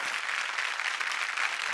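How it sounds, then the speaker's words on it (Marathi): Loud, dense applause from a studio audience at a televised women's show, continuous close clapping with no pause over a short stretch. "जाऊ दे जोरदार टाळ्या सगळ्यांना"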